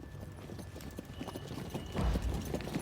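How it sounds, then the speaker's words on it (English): A horse's hooves clip-clop at a steady riding pace across a meadow, moderately close, with a heavier thud of steps near the end and no talk. "Devabrata was riding his horse in a meadow nearby"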